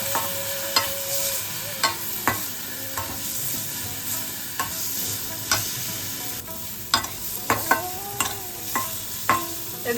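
Bengali spice paste for man kochu curry fries in a pan with a small splash of water, a steady sizzle broken by repeated scraping clinks of a spoon stirring, heard close with no talking.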